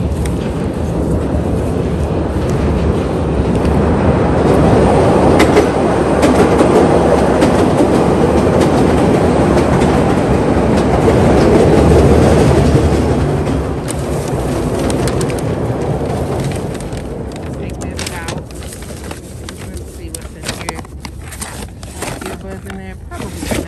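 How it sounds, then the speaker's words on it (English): A subway train passing through a Chicago station, loud rumbling and clattering that swells, holds, then eases off over about twenty seconds, with a voice speaking over it. "And guys, here comes another train."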